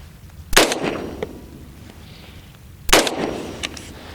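Two AR-15 rifle shots fired for a chronograph test, about two and a half seconds apart. Each is a sharp, loud crack with a brief ringing decay, and there is no talk in between.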